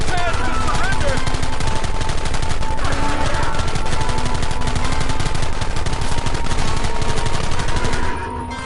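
Rapid gunfire crackles nonstop through a Red Dead shootout, dense overlapping shots and bursts at close range, loud and relentless before cutting off abruptly near the end.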